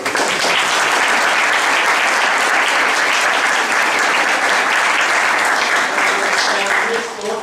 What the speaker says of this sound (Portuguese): É uma salva de palmas deles